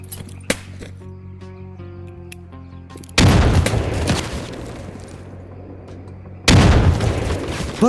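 Homemade grenade explosions in the Stalker Zona modpack video game, two loud sudden booms with rumbling decay about three seconds apart, after a quieter stretch of ambient tones.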